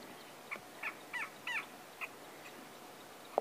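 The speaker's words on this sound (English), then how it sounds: "there's the go-away birds calling at the top there." Go-away birds call from a treetop at sunset on safari, a series of short, faint nasal cries spaced unevenly, with a sharper sound at the very end.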